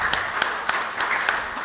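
Sparse, evenly spaced claps from a small audience at a legal panel discussion, greeting a panelist; about five distinct hand claps over a soft background hum.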